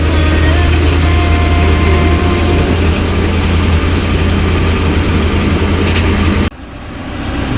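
A 2006 Ford E150 or F150 engine idles steadily up close, a loud even low hum and rumble that holds for several seconds before dropping slightly in level near the end.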